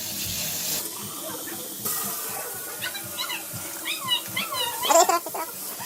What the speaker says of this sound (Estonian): siis ma panen sooja vett juurde